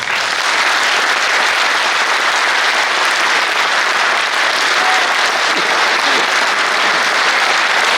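A large audience in a convention center applauds continuously, a thick even roar of many hands clapping at once that holds loud throughout with no talk breaking through.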